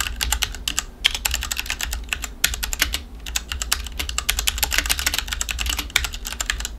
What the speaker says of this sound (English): The cherry MX brown switches are really tactile and have a small bump feeling in them